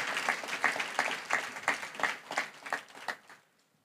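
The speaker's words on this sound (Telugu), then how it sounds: "చప్పట్లు కొట్టి దేవుని మహింపరుస్తారా ఒకసారి గట్టిగా?" A church congregation claps together in a dense burst of applause with distinct rhythmic peaks, fading out near the end.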